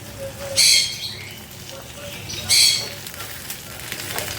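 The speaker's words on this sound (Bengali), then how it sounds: "পাবদা মাছটা ভাজছি" Hot oil sizzles steadily as pabda fish fry, flaring twice into loud crackling spatters a couple of seconds apart.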